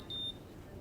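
A hair styling device gives a single short, faint electronic beep over quiet room noise.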